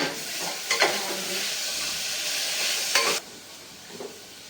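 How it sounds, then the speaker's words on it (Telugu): Tomato and ginger paste frying in a pan for a meal-maker rice dish, a loud continuous sizzle with a few sharp spoon scrapes against the pan before the hiss cuts off abruptly. "సో ఇలా బాగా ఫ్రై చేసుకోవాలి"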